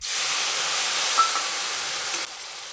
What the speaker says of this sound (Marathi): लिंबाचं पाणी ओतून घेतो